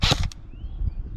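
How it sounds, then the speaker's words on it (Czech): A Specna Arms Anareus M4 CQB Keymode airsoft rifle fires a single sharp close shot on an outdoor range while being tested at 60 metres, followed by a faint whistling of the BB in flight. "Takže na 60 metrů zbraň střílí pořád docela přesně"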